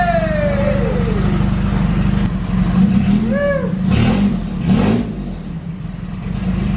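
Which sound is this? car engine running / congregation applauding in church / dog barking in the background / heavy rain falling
car engine running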